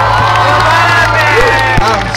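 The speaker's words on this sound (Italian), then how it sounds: "Fatevi un applauso." A concert audience applauds and cheers loudly in a dense, continuous wall of clapping and shouts, with voices rising through the crowd noise.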